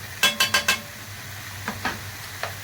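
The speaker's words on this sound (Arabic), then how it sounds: "ونقلب." A spoon stirs potatoes and tomato sauce in a pan for a potato tray dish, giving four quick metallic clinks in a row, then a few sparser scrapes against a low background sizzle.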